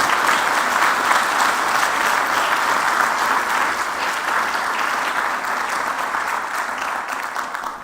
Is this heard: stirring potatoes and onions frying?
no